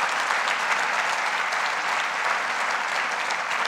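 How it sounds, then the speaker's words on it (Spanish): An audience at a political event in Vitoria-Gasteiz claps for a minister, a continuous, even roar of many hands at a steady level for several seconds with no talk over it. "Primero quiero pediros un gran aplauso por la ministra de Transición Ecológica."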